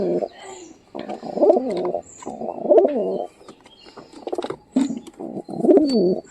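Pigeons coo nearby in repeated throaty, warbling bursts, several phrases in a row with short pauses between, accompanied by faint chirps.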